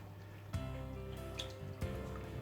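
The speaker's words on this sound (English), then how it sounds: "That is why I'm adding the hot water to it." Hot water is poured onto rice in a steady stream with a couple of splashy gurgles and drips, close by.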